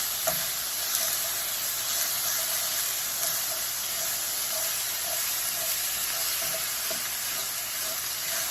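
Hamburger meat frying in a pan on medium-high heat for a hamburger scramble, a steady close sizzle and hiss with faint crackles and occasional stirring scrapes, continuous throughout with no talk.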